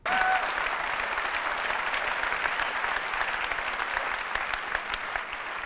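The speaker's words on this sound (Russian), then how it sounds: "Зал хлопает в ладоши, кричит восторженно" An auditorium crowd applauds and cheers at a product keynote, with loud, dense, continuous clapping from start to finish.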